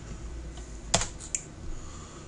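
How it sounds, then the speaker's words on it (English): A command is typed on a computer keyboard: two or three distinct, close-up key taps stand out over a soft steady room hum. "what I always do is type gdisk"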